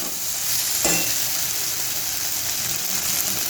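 Ginger and garlic frying with melted tomato in a pan, a continuous close sizzle with a single stir or scrape early on.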